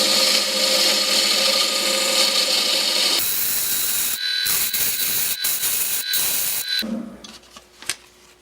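Wood lathe making a straight plunge cut into a turning spindle, a close harsh scraping and rasping from the tool against the spinning wood, breaking into choppy bursts and stopping near the end.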